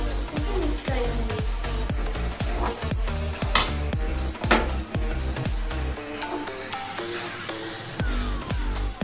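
Semolina mixture being stirred into sugar syrup for suji laddu, with repeated rhythmic scraping strokes of a spoon against the pan, close and steady over a background hiss, then quieter from around six seconds.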